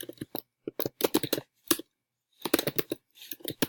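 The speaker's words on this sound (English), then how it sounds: "we're going to start typing our name, the title of our slide" Crisp keyboard typing in uneven bursts of quick clicks, with short pauses between runs, close and fairly quiet while a name and slide title are entered on a computer.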